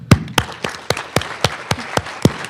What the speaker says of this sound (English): So I'd love if anyone who was part of the selection process to rise up so we can give you a round of applause.